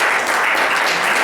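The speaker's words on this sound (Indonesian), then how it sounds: "Tepuk tangan dong ya buat Frankie yang PCC ya." An audience applauds a staff member at a company gathering, with dense continuous clapping at steady loudness throughout.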